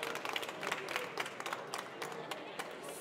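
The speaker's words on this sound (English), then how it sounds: "Please give applause to our excellent panelists and the moderator." Audience at a Martens Centre panel on EU enlargement applauds the panelists and moderator, a faint, fairly distant patter of many hands clapping steadily for a few seconds.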